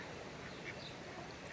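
Constant dense quacking from a flock of ducks nearby, a steady noisy wash of calls with no pauses.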